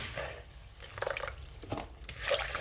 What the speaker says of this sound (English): I'm just going to wash a quick one and then drain them.